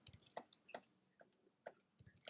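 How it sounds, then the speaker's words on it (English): Water dripping from a radiator indoors, a series of small irregular wet drips and squishy ticks, faint and close, spaced unevenly with no voices. "That is the radiator, the dripping."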